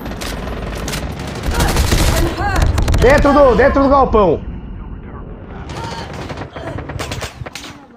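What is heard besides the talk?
gunfire in a shooting video game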